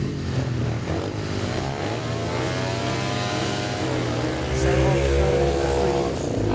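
Speedway motorcycles, 1990 four-valve upright bikes, race at a small track meeting with three riders, their engines roaring steadily and loud throughout, rising in intensity near the end.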